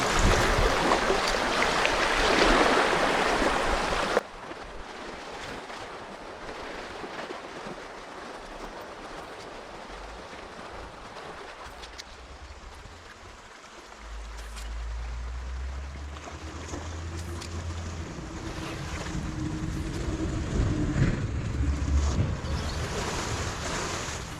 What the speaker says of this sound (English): So this boat is doing what I designed it to do, advancing up through current really nicely.